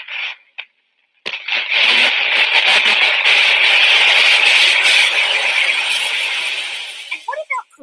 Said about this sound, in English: Here's a flare signal recorded earlier this year by amateur astronomer Thomas Ashcraft.